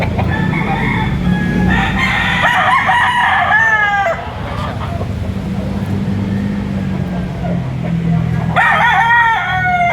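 Fighting-cock roosters, white-legged birds among them, crow loudly several times at a busy gamefowl market, one crow near the start and another at the end, with clucking and a low traffic rumble underneath.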